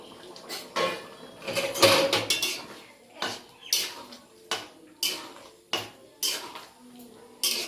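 Fried prawns go into boiling curry gravy for a Bengali potol chingri, bringing a run of sharp metal utensil clatters and scrapes against the pot, repeated roughly every half second, close and fairly loud.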